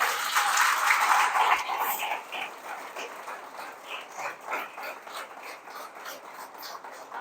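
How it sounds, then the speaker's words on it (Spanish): Church congregation applauding during a Spanish-language sermon, loud clapping at the start that thins into scattered claps and fades under light crowd noise. "¿Cuántos les pueden dar un aplauso a Dios?"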